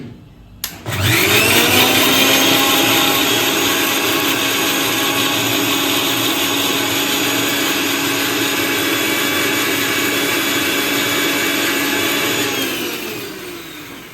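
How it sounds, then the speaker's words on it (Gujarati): A kitchen mixer grinder whirs loud and close as it grinds a dabeli chutney with added water, a steady high-pitched motor whine running about twelve seconds before winding down. "ફરીથી આપણે પીસી લઈશું."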